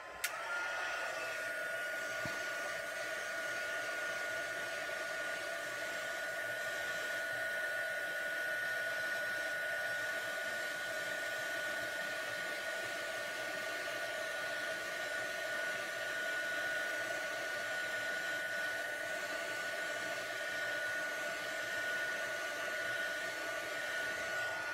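A heat tool melts embossing powder on a handmade card, giving a steady blower whir with a faint tonal hum. It runs unbroken and evenly loud throughout, with no voices.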